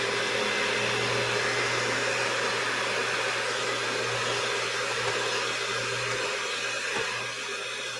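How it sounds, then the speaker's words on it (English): Electric kitchen stand mixer running at a steady motor whine, loud and continuous for eight seconds with a constant low hum under a broad whirring noise. "we have a fancy mixer that never wants to actually mix the outside."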